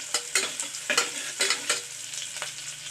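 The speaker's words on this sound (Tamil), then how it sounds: "இதையும் சேர்த்து நல்லா வதக்கிக்கலாம்." Sliced green chillies sautéing in oil in a pan for tomato pulao. A spoon scrapes in quick, regular strokes over a steady sizzle, close and fairly loud, with no voices.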